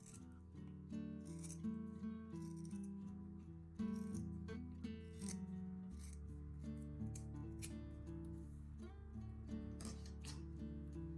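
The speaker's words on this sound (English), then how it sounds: "Next, cut off the excess fabric along the line you marked." Faint, repeated snips of scissors cutting through cloth, with soft steady music playing underneath.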